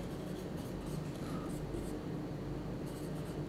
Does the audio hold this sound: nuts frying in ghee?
no